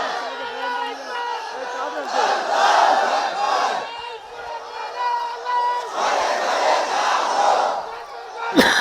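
A large crowd at a Bangla Islamic sermon gathering roars the takbir, Allahu Akbar, in two loud swelling unison chants with a pause between, close and full.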